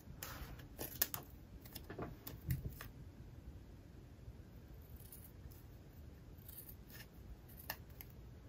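Scissors snipping through paper while a binder is being reworked: several quick, crisp cuts close by near the start, then quiet rustling and faint handling noise.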